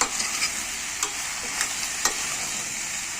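Zucchini coated with garlic frying in a pan, a steady soft sizzle broken by several crisp stirring scrapes at regular intervals.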